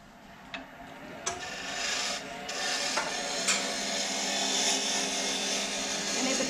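A woodturning chisel cutting a spinning wood piece on a lathe, a continuous rasping scrape with a few sharp clicks, growing steadier and louder toward the end.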